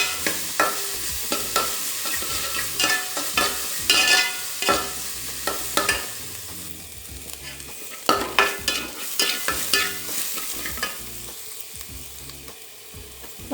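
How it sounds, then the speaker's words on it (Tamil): Soaked moong dal and onions being stirred and sautéed in a hot pan, a steady sizzle with repeated scraping strokes of the spoon, close and loud, with no voices. "சேர்த்து இதோடு நல்லா வதக்கி விட்டுருவோம்."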